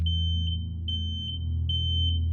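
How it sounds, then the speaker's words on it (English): A house fire alarm beeps in a steady repeating pattern, each high piercing tone held about half a second with brief gaps, loud and close over a low background hum. "Is that the fire alarm?"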